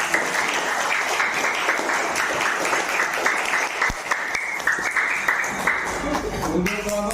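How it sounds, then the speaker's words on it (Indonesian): Classroom audience applauding steadily for several seconds, a dense wash of clapping at moderate distance with no speech over it. "Oke, kasih aplaus."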